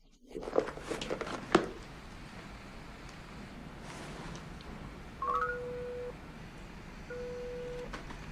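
Telephone dialing tones while calling someone: a few brief clicks and handling sounds, then two short electronic tone beeps over a quiet hiss.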